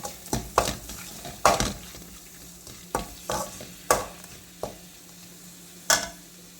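Jackfruit thoran being mixed in a pan after the ground coconut paste and salt go in, with distinct spatula scrapes and knocks spaced about a second apart over a faint background hiss, close and clear, no talking.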